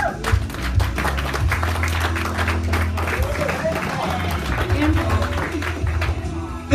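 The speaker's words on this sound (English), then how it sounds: "give her a round of applause." An audience at a prospecting event claps steadily for a guest being called up, a sustained even patter of many hands with faint background voices.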